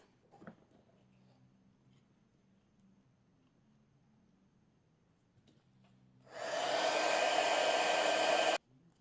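A heat tool for embossing stamped cardstock switches on and blows with a loud, steady fan roar for about two seconds, then stops abruptly, following quiet handling sounds.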